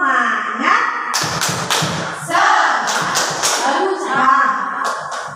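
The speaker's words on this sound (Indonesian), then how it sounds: "Tepuk semangat." A classroom group performs the spirit-clap rhythm, patterned claps and thumps mixed with chanted voices, rising and falling in short lively bursts close by.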